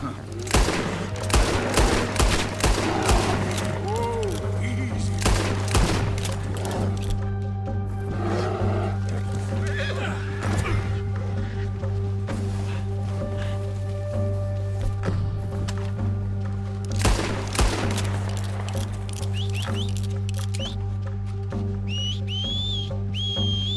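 Gunfire in Red Dead Redemption 2: loud, irregular bursts of close shots over a busy western game soundscape, with animal-like cries and a whistle later on.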